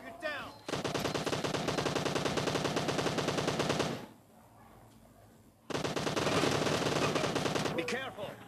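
Rapid automatic gunfire from PUBG Mobile, an M762 rifle, in two long loud sustained bursts separated by a short lull, with faint in-game sounds in the gap.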